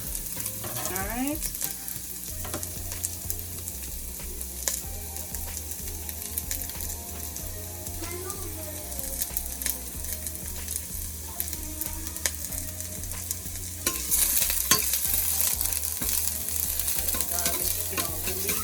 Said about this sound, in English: So while my oil is getting hot, which it is, I'm gonna go ahead and add my garlic.